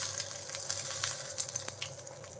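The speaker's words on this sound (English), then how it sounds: "So I'm gonna pour the ghee over on the top," Hot ghee is poured over a dish of hareesa, giving a soft continuous sizzle and trickle with faint crackles, close and fairly quiet.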